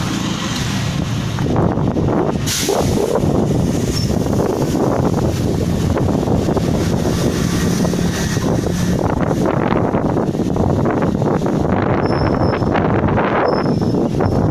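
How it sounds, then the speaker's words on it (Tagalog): Strong wind buffets the microphone with a continuous rumbling roar, gusting unevenly throughout. "Malakas na hangin."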